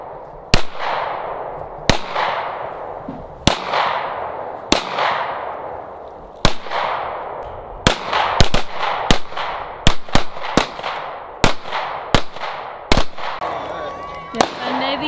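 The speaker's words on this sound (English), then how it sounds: "It's a good Thanksgiving when you're shooting guns, burning some gunpowder." Guns firing at a pumpkin target outdoors at Thanksgiving, a series of about fifteen loud, sharp gunshots at irregular intervals, each with a ringing tail, alone without talk.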